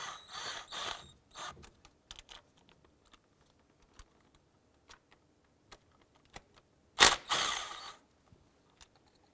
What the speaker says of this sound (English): I'm going to remove our 2 10mm bolts holding the fuel rail in place.